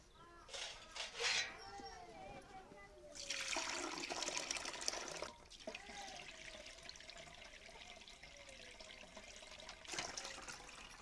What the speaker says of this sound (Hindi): पानी के छानबे।